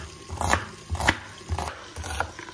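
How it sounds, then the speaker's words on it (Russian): A knife chops through onion on a board in a home kitchen, making four or five evenly spaced, moderately loud strikes about half a second apart. "Еще я люблю к картошке добавить лук, так что будем нарезать."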